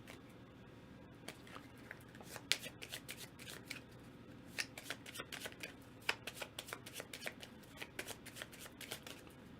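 Cards for the World Wonders board game are shuffled in repeated riffles. Sharp rapid bursts of flicking and snapping card edges sound close at a moderate level over a quiet room.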